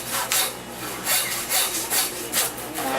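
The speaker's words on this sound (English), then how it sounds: "Trusty handsaw." A handsaw cuts through a lamb neck on a butchery bench, the blade rasping back and forth in steady, close strokes about every half second, scraping against meat and bone without any talk.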